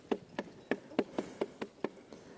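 Loose chain rattling on a Honda CRF450L motorcycle, heard as a faint, evenly spaced series of light metallic ticks repeating several times a second, close by with no talking.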